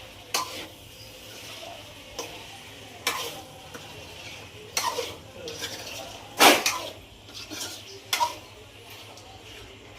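A spoon stirs salted chicken curry in a metal pan, with sparse scraping clinks and a few sharper knocks over a faint sizzle.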